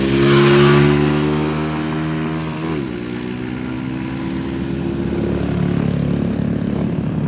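Two motorcycles, a carbureted Raider 150 and a Mio 125 with a 160cc 62mm block, in a drag race: a loud, high engine whine rising through gears, then a shift and a steady strained drone trailing off.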